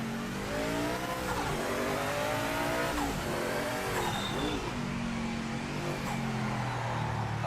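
A race car engine in the Project Motor Racing video game, a Japanese prototype, runs at light quarter throttle with a loud, continuous rising and falling whine that holds steady throughout.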